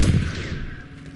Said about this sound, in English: That's a sniper, right?